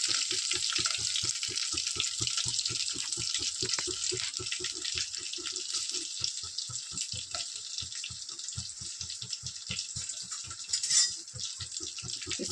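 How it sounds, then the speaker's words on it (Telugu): Green chillies frying in a pan, a steady close sizzle with a brisk repeated stirring or scraping rhythm throughout, and one brighter metallic clink near the end. "తర్వాత పచ్చిమిర్చి వేస్తున్నాను"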